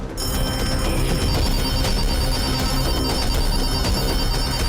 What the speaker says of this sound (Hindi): अचानक आया फोन, कॉल करने वाला कौन?